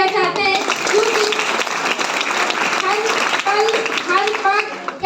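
An audience gives a loud, sustained round of applause for God during a Hindi motivational speech, with vocal cheering and voices ringing over the clapping throughout.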